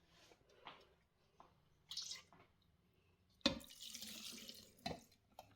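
Rice water from washing rice poured into a jar for pickling mustard greens, short liquid bursts and trickles, with a louder sustained pour near the end, close and fairly quiet.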